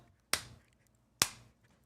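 Two sharp, crisp claps about a second apart from a wrestler during his ring entrance at a WWE event, each ringing briefly over an otherwise quiet background.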